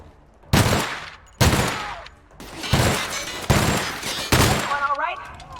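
Loud bursts of automatic gunfire exchanged in the game The Outer Worlds, five distinct rapid volleys close by, separated by short pauses, with a brief voice at the end.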